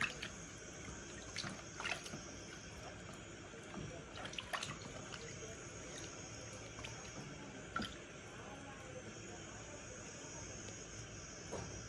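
Homemade paneer being rinsed in cold water, with steady trickling and dripping water and occasional splashes and clinks, continuous and fairly quiet throughout.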